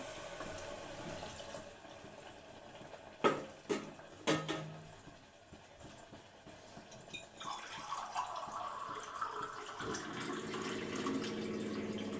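Water is poured into a pan of rice and tomato for tomato bath, starting with a few knocks and clatters, then a steady close splashing, filling rush.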